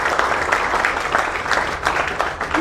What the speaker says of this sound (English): Can we have another round of applause, Bhaichung sir, please?